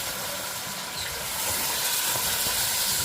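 Food fries in a pan with a loud, close, continuous hissing sizzle that holds steady and grows slightly stronger throughout, with no talking.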